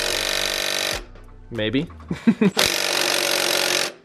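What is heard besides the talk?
impact wrench loosening transmission mount bolt on project car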